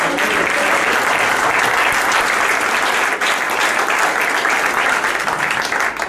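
Loud, continuous applause fills a church as a congregation claps together, dense and sustained throughout without pause.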